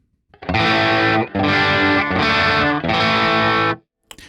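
Distorted electric guitar chords on the bridge pickup ring out in three sustained bursts separated by brief gaps, bright and gritty, close and loud with no talking.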